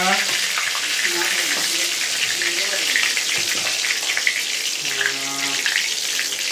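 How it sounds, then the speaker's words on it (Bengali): Bay leaves and dried red chillies dropped into hot oil for tempering, giving a steady close sizzle and crackle throughout, with faint tonal clinks over the frying hiss. "তো এটা এখন আমি ফোড়ন দেব। তো দিয়ে দিলাম তেজপাতা, শুকনো লঙ্কা"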